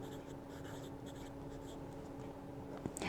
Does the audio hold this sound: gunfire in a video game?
no